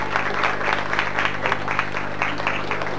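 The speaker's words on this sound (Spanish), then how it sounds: "Va a aplaudirlo, así se anima." Applause ripples through a school poetry contest audience for a child contestant, moderate and steady clapping heard somewhat distant over a faint constant electrical hum.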